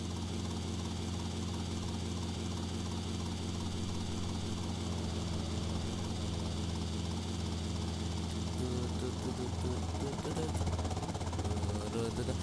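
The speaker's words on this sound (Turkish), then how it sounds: "Şehrin içinde helikopter sürüyorum abi." A helicopter flies through the city in the video game GTA Vice City, its steady rotor and engine drone continuous and fairly even throughout, with a game soundscape underneath.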